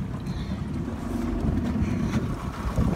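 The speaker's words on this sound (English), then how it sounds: "A little windy today" Wind buffets a small fishing boat out on inshore water, a steady low rumbling roar of gusts across the microphone with faint water noise, continuous and fairly loud throughout.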